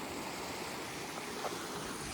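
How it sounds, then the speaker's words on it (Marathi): Water from a small hidden waterfall near the Panvel highway at Badlapur rushes steadily in a close, even wash of broadband noise that holds without a break. "पाणी वाहण्याचा मस्त आवाज येतो एकदम शांत."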